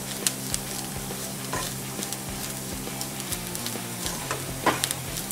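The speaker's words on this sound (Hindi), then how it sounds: "ये हमने मैदे को भी अच्छे से भून लिया है।" Plain flour roasting in a pan over a medium gas flame, a soft steady sizzle with quiet scraping stirs and light clicks of the spoon, faint and close, no talking.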